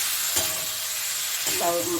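Spice paste for a jackfruit curry sizzling and frying steadily in a pan, with a brief stir partway through and a louder burst of sizzling near the end.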